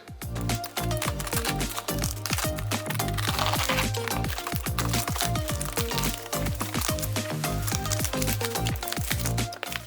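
Scissors slice through a large parcel of products, producing a dense run of quick crisp snips, crackles and crinkles of packaging at close range, continuing without pause.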